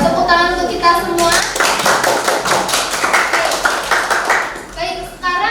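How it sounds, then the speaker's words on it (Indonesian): A group of students in a cooking class claps together in a burst of fast, overlapping hand claps lasting a few seconds. Voices can be heard before and after the applause. "Tepuk tangan untuk kita semua"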